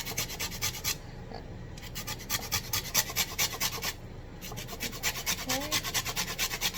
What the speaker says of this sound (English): We just zested 1 teaspoon of lemon.